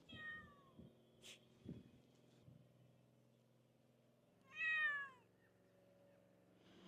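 A cat meows at the ancient theatre in Petra, two faint, short meows a few seconds apart over low outdoor background hum, with no talking.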